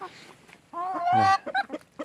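Hens in a backyard flock of around a hundred laying chickens cluck in a short run of close, fairly loud calls, including one drawn-out squawk among quicker clucks.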